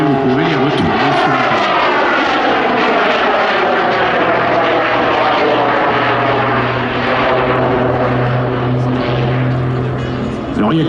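A Pitts aerobatic biplane flies at the Melun-Villaroche airshow, its propeller engine droning loudly and steadily throughout with a shifting pitch and a low hum, while a commentator talks over it.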